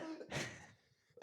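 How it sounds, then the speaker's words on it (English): A man coughs once in a short, loud burst, with a faint throat sound after it. The room is otherwise quiet. "he's coughing"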